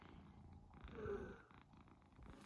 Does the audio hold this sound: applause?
no